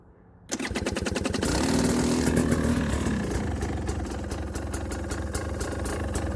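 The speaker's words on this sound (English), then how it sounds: "So this is my first real negative cold start." A 2020 KTM 300 XC TPI two-stroke dirt bike fires up after a -2°C cold start and settles into a loud, close, rough idle with a steady buzzing pulse and no voices.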